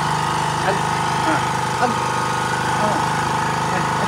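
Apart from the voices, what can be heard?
engine-driven water pump running loudly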